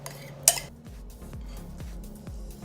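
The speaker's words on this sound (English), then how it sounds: "Now take 2 tablespoons of yogurt and add to it a tablespoon of mayonnaise and mix it all up." A spoon stirs a yogurt and mayonnaise dressing into a tuna salad in a bowl, with a sharp clink against the dish near the start and then a steady run of soft, rhythmic scraping strokes, close and unaccompanied by talk.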